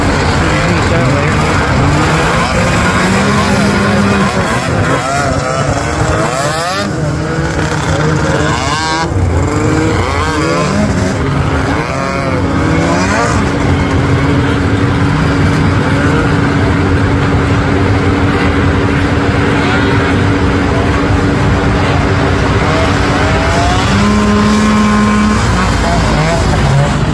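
A vintage John Deere snowmobile climbs a hill on private trails at a motor speedway, its engine droning loud and close with a wavering, rising and falling pitch for nearly half a minute while people talk over it.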